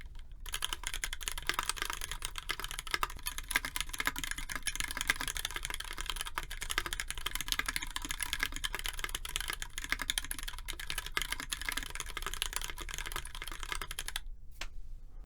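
Rapid, continuous typing on a KBDFans TFV2 mechanical keyboard with a brass plate, crisp clacky keystrokes at a steady pace, close up and alone, stopping near the end.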